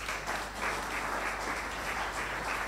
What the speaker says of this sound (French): On peut acclamer le Seigneur